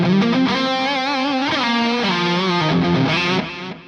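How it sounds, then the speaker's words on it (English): Loud distorted electric guitar through an Axe-Fx III plays sustained, shifting notes with a repeating ping pong delay echo bouncing behind them, continuous throughout before easing off at the end. "I'm now going to add a little bit of ping pong delay."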